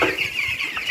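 Poultry chickens on a farm, ten-day-old birds, cluck steadily and close up, a dense overlapping chorus of short calls with no talking.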